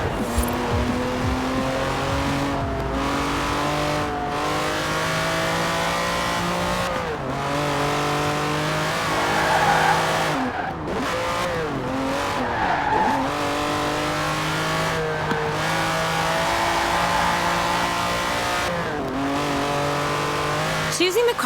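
A 1987 Lamborghini Countach races loudly in the Forza Horizon 4 video game, its engine revving and shifting through repeated rising gears with tire squeals between, over continuous road roar.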